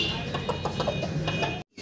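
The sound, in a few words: chickens clucking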